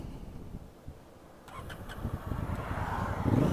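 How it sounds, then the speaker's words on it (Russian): A Honda Africa Twin motorcycle engine cranks, catches with a few sharp bursts and then settles into a rising, steady idle, heard alone at moderate volume. "Включаем. Заводим, поехали."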